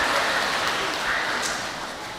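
Congregation applause during a Sunday Lent service at a Toraja church: a steady wash of many hands clapping fills the whole stretch at an even, fairly loud level.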